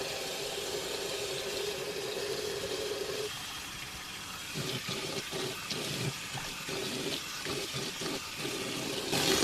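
Tap water runs steadily into a sink during a nighttime face wash, a close, broadband hiss that briefly shifts tone as the flow changes, then breaks into irregular splashes and pauses as hands scoop and rinse.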